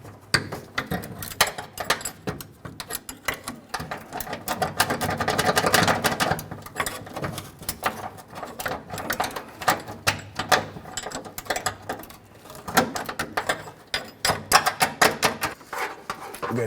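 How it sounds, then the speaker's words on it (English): A small chisel tip prying a bolt out of a wrench while replacing the spare tire carrier and hoist on a Nissan Frontier, with dense rapid metallic clicks, rattles and scrapes, close and busy, mixed with intermittent talking. "I'm just using a small chisel tip here just to try and pop that out."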